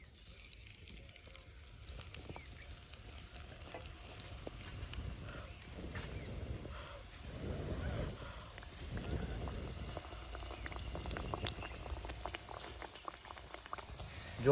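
Multigrain puri frying in hot ghee in a kadai during village-style cooking: a steady, fairly faint bubbling sizzle that swells slightly over time, with no voices.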